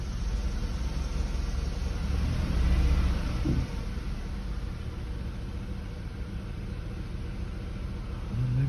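A 2004 Buick LeSabre engine idling roughly with a misfire, a steady low drone with a slight swell early on and heard from inside the car without talking.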